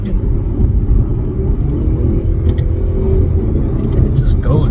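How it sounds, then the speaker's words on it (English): A Mercedes-Benz CLE 200 Cabriolet with a 9-speed transmission pulls hard under acceleration, a loud steady low engine drone and road rumble filling the cabin, with a few faint clicks over it. "So you put your foot down, it goes, it has that kick."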